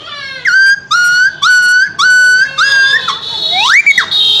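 A voice imitates a dog yelping after being struck by a stone, producing a run of about six sharp, whistle-like cries in quick succession, ending in a rising, swooping yelp, loud and close.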